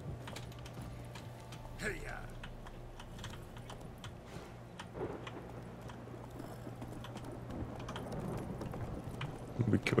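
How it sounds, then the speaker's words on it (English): Horse hooves clip-clop at a steady walking rhythm in The Witcher 3, soft and even under faint game ambience, with no talking. "Should I get on my horse?"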